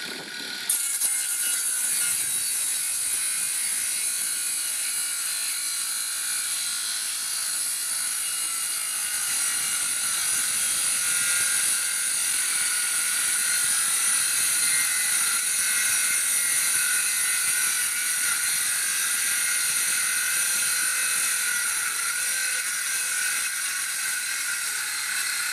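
FERM CSM1047 20V cordless circular saw cutting through a roughly 40 mm thick kitchen worktop, its blade rubbing in the cut, giving a continuous loud high-pitched whine and grinding drone that holds steady throughout with no voices.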